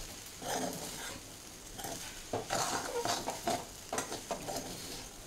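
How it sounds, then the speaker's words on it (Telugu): Vegetable rice with salt is stirred in a pan for a lunch box, giving repeated scraping and stirring strokes with a soft sizzle underneath, close and moderately loud, with no talking. "ఇది ఇప్పుడు మిక్స్ చేద్దాం"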